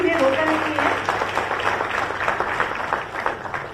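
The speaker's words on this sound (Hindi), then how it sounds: "आपका ताली जरूर बजाइए" Audience applause at a public function with dignitaries on stage, a sustained ripple of clapping from a gathered crowd, moderately loud, with a brief voice at the very start.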